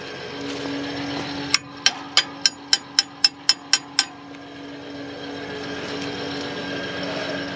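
A wrench is used as a hammer, striking metal in nine sharp, evenly spaced clanks over about two and a half seconds against a steady engine-like drone.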